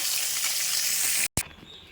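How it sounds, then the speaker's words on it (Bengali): Pieces of pointed gourd hit hot oil with a loud, steady sizzle that cuts off abruptly, followed by a softer, fading frying hiss. "তেলটা গরম হয়ে গেছে আর পটলগুলো ছেড়ে দেবো"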